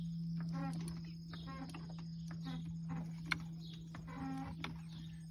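A Pittsburgh car jack is pumped rapidly under a car, with a quick series of short rhythmic ratcheting strokes over a steady low hum, fairly close.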